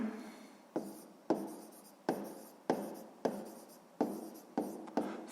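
A pen or pencil writes out a sixth-grade maths exercise on paper in quick, scratchy strokes. About nine sharp, evenly spaced strokes sound close up, each fading before the next.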